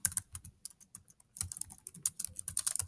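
Typing on a computer keyboard: close, light key clicks in quick irregular bursts, a brief pause near the middle, then a denser run of taps, with no talking.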